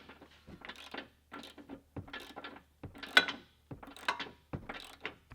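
A bolt is screwed in during a 3-inch lift install on a Porsche Cayenne Turbo S, heard as a series of close ratcheting bursts with short pauses between them.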